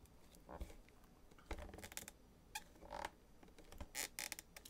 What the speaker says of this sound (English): So you can hear the plastic or the acrylic kind of creaking